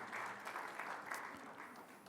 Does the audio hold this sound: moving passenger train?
no